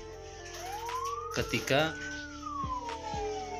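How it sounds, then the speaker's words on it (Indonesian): A faulty ambulance siren module, the CJB 100BD type, gives a short rising-and-falling wail, fairly faint, with someone talking over it and a few clicks and bumps nearby. "Jadi problem di modul Sirine ini"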